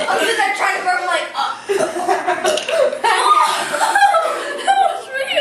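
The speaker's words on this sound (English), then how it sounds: "I'm sitting there trying to burp like" Amid chuckling and laughter, a person makes loud, close burping sounds in choppy bursts, with voices talking and laughing throughout.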